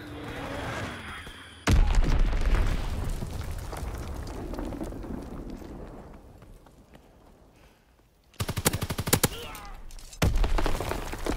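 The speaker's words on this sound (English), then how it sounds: "Enemy bomb incoming. Get to cover." Bomb blasts and gunfire ring out in a Call of Duty WW2 team deathmatch, with a heavy explosion, a long rumbling decay, then loud bursts of rapid shots near the end.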